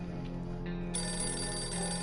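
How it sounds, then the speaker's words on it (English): A telephone rings in the survival game 60 Seconds Reatomized, a steady electronic ringing tone that swells louder partway through, with background game music underneath and no talking. "You hear the phone?"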